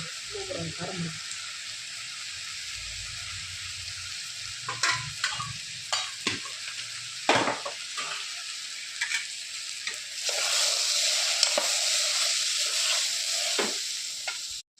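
Potatoes fry with spices in a pan for a coconut milk potato masala curry. A spoon stirs and scrapes in quick bursts over a soft sizzle, and the sizzle grows louder near the end.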